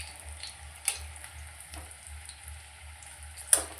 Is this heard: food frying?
yes